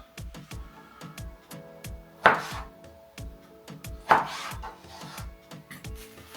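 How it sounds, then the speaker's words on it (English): A knife chops cherry tomatoes and vegetables on a cutting board in a home kitchen, giving a steady run of close, crisp taps with two louder, scraping strokes in between, and no talk. "So, chop up these cherry tomatoes."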